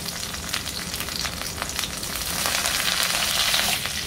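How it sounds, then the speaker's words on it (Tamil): Urad dal roasts in hot oil until reddish, giving a close, steady crackling sizzle that swells louder toward the end, with no one speaking. "உளுத்தம்பருப்பு நல்லா செவக்க வறுக்கணும்"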